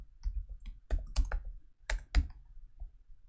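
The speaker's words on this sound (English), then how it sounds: "Why am I typing 2?" Someone types on a computer keyboard while working on code, producing a quiet, irregular series of clicks in small bursts with pauses between them.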